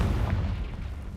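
Blasting-spell explosion from the Confringo spell in the video game Hogwarts Legacy, a loud, rumbling boom with dense low-end energy sustained through the moment, with no voices over it.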